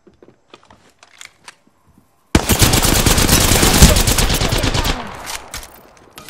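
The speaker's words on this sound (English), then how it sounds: "Getting shot at." Sustained rapid automatic gunfire from Apex Legends erupts after a quiet stretch of faint clicks, a dense, loud burst of shots lasting a couple of seconds before tapering into scattered fainter pops.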